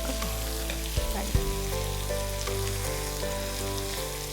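Four large onions sizzle steadily in a pan for a home-style chicken roast, with a few louder scraping stirs early on and a constant close frying hiss throughout.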